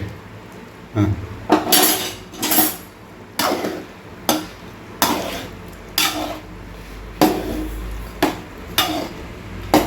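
A utensil scrapes and clanks against a metal pan of chicken gravy in a steady run of about a dozen strokes, close and fairly loud, with no talking.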